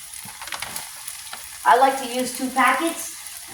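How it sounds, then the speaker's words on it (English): Vegan crumble, two packets, goes into a hot pan with onion and tomato for keema, sizzling and frying with stirring scrapes; a quiet hiss swells into two louder bursts of frying noise. "now we're going to add that crumble inside."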